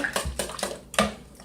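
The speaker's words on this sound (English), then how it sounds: "Then I'm just going to whisk it all together." A whisk clatters against a bowl while mixing bread pudding custard with vanilla extract, giving several quick, close metallic knocks and scrapes in an uneven rhythm.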